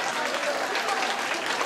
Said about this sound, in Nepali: जोरदार तालीले स्वागत गर्नु होला उहाँलाई